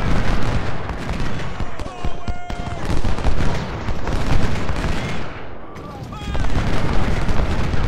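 Dense, continuous cannon booms and rolling musket fire from a Civil War battle in the video game Ultimate General: Civil War, loud and layered throughout.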